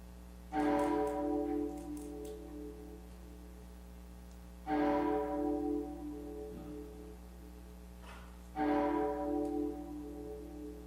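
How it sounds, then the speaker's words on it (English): A loud, bell-like chime rings three times at roughly four-second intervals, each strike bright and ringing out into a slow decay over a low steady hum. "Good heavens, that chime is annoying."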